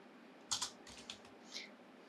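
A few quick keystrokes on a computer keyboard, close and crisp: two sharp clicks followed by several softer taps spread over about a second, with no talking.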